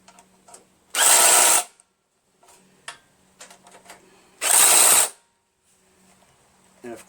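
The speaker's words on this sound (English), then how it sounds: "I'm going to torque them down now with my impact driver in a cross pattern just to get it tight." An impact driver tightens half-inch bolts on a 5HP Tecumseh engine being fitted to an MTD Yardman single-stage snowblower, firing two loud hammering bursts of about a second each, with quiet handling clicks and rustle between.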